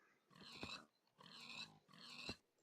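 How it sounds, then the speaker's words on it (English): Three grunting squeals from a Minecraft pig in a modded Feed The Beast game, each about half a second long and evenly spaced, clear and close with no talk over them. "Wow, that pig sound is terrible."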